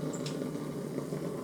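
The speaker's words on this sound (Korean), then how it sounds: "이제 잣을 살짝 볶을 겁니다" Soft, steady sizzling and faint crackle of pine nuts toasting in a dry pan, quiet and continuous with no talking.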